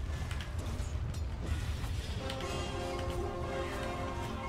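Mechanical creaking and ratcheting as a barricade is put up in a video game, a steady run of clanking mechanism sounds over a busy in-game background.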